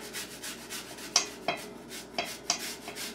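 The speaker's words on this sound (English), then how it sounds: "So I am totally grating up a jalapeno" Jalapeno grated on a kitchen grater, a few short rasping scrapes with sharp bright strokes spaced about every half second, close by and fairly quiet.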